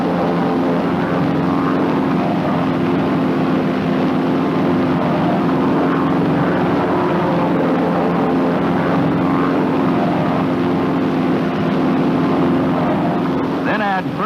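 A North American T-6 Texan propeller trainer drones steadily in flight, its engine and propeller a loud, even, close roar that holds throughout with a faint shift in pitch near the end, and no voices.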